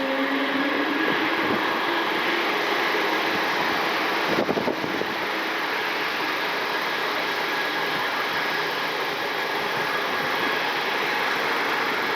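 Air Canada Airbus A220 departing from Cleveland's airport toward runway 24 left, a steady broadband jet roar and whine held at a distance throughout, with a short sharp burst of noise partway through.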